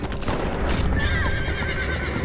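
A horse whinnies loudly over a noisy, busy background with faint hoof clatter, in the video game The Walking Dead: The Final Season.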